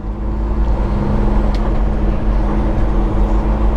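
A 2018 Peterbilt 389 truck cruises down a road in Montana, its steady low engine drone and road rumble filling the cab continuously without any talking.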